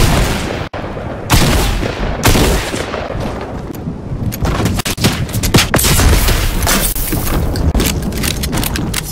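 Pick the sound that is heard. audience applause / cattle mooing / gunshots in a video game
gunshots in a video game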